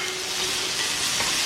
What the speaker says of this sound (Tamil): அது கொஞ்சம் ஒரு 10 செகண்ட்ஸ் சாட்டே ஆகட்டும்.